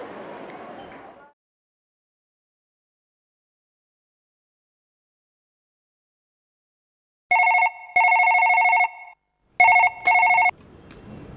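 A telephone rings in electronic bursts after a long silence, with a short voice before it and more talk after it. The tones come in three clipped, loud bursts.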